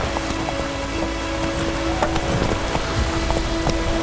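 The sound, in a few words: rain in The Witcher 3 video game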